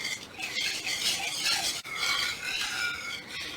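Salt is stirred into milk warming in a pot, a spoon scraping and swirling in continuous soft, swishy strokes close by, with one brief pause midway and no speech.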